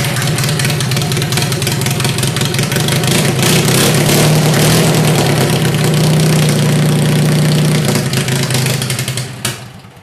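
A worn Kohler engine runs steadily after a cold start, loud and close with a constant droning hum, then cuts off abruptly near the end.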